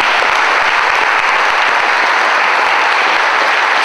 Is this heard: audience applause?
yes